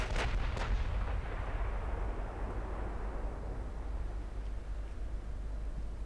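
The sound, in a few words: warship turrets firing in video game Ultimate Admiral Dreadnoughts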